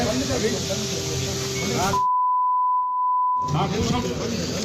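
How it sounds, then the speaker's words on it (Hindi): A steady censor bleep tone masks profanity in a heated Hindi-language exchange during a news report, sitting alone in a silent gap of about a second and a half between stretches of loud speech. "बीप साउंड मतलब समझ लीजिएगा अभद्र गाली"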